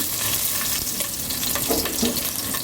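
Green chilies, slit down the middle, sizzle steadily in hot oil in a pan, a close, continuous crackling fry with no talk over it.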